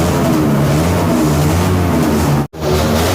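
Loud, continuous engine revving at a crowded motor show in Bayambang on a rainy day, the roar holding steady with a brief cutout near the end before picking up again.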